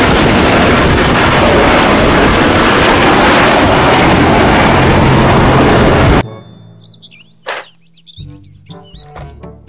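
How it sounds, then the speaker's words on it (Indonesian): A toy airplane's loud engine roar fills the first six seconds, then cuts off abruptly, leaving scattered chirps and short electronic tones. "Pesawat terbang."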